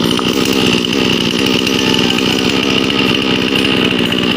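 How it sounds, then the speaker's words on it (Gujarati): A petrol chainsaw cuts through a neem tree, its engine droning loud and continuous at close range with a steady rattling pulse and no talk over it. "જો મિત્રો કટર ચાલ થઈ ગયો અત્યારે જો કેવડા ધુવાણા કાઢે"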